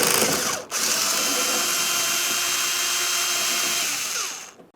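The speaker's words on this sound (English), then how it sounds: "To remove this nut, we'll be using an 8mm." Power tool spinning an 8mm nut off a Dodge Ram 2500 exterior door handle mount, a loud steady whirring close up that runs for about four seconds after a brief catch near the start, then winds down.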